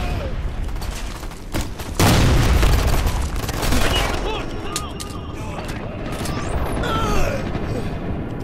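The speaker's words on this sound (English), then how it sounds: "Throwing a frag!" A frag grenade explodes with a loud boom in Ghost Recon Future Soldier multiplayer on PS3, followed by a rumbling tail amid scattered gunfire and in-game voices.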